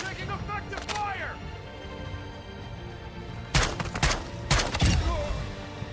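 Bursts of gunfire in Call of Duty DMZ, two sharp loud volleys of rapid shots near the end after a quieter stretch with voice chatter and radio callouts.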